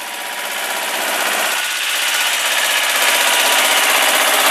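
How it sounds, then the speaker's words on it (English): A Case 360 backhoe loader's heavy diesel engine runs steadily at a rough, rattling idle, loud and close, holding an even rhythm throughout. "Engine sounds really good in it."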